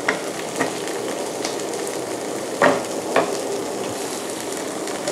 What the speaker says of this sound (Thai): ผมผัดให้เขาได้กลิ่นได้รสของแกงเขียวหวานไปก่อนนะฮะ